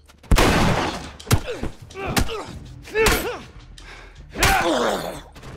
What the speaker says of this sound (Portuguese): De onde que tá vindo esse tiro?